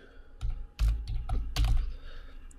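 Keys clack on a computer keyboard as a new password is typed, a short burst of several distinct strokes in an uneven rhythm, close and fairly loud with no talking.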